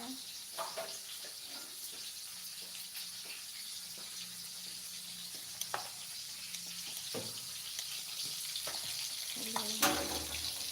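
Tempeh frying in a pan in a home kitchen during a breakfast cook, a constant hiss and sizzle with scattered pops and clinks, heard close throughout.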